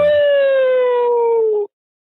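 A single drawn-out howl, loud and close, holding a steady, slightly falling pitch for about a second and a half before cutting off abruptly into silence.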